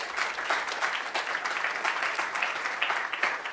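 A hackathon finals audience at a women-in-tech event gives steady, even applause from many hands, continuous and fairly close with no talking over it.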